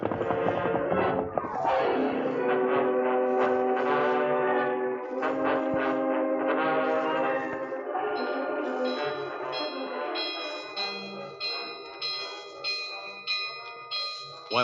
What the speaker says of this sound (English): Maggie frantically pulled the cord that rang the big bell near the back door of the ranch house